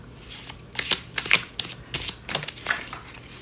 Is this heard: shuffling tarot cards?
yes